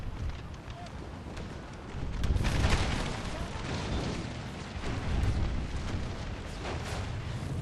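Cannon and artillery fire from a Napoleon: Total War battle recreating Pickett's Charge at Gettysburg, a steady broadband roar of distant booms and rumble lasting throughout, swelling in louder bursts with no clear separate shots.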